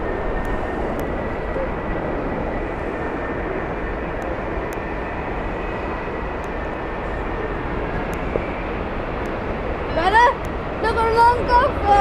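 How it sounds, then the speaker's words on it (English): A Gulf Air jet from Bahrain on final approach at Heathrow Airport gives a steady broad engine rumble throughout, with a brief rising whine and chirpy sounds near the end. "Gulf Air from Bahrain is on final."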